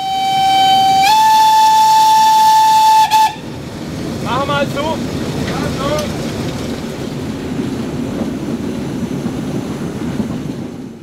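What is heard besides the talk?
class 52 steam locomotive train running, steam whistle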